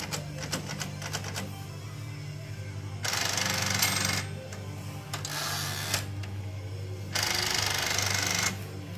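An SCM Classic 12 antique typewriter typed at a steady pace, with rapid clacking keystrokes and a couple of longer bright bursts like carriage movement or bell-adjacent mechanism noise, recorded close over a low steady hum.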